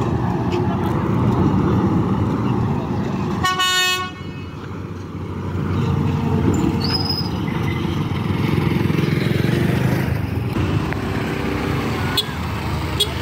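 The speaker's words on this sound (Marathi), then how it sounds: "तर फायनली बघा बोट आलेले आहे." A ferry boat pulls in at Jaigad jetty near Ratnagiri on the Konkan coast, sounding one loud horn blast over a steady, close engine rumble and open-air background noise.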